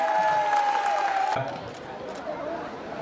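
Audience applause at the closing ceremony of Thailand's senior athletics championship, greeting the Songkhla provincial team: a dense, steady wash of clapping from a crowd, with a voice over the loudspeaker, easing slightly after the first second and a half.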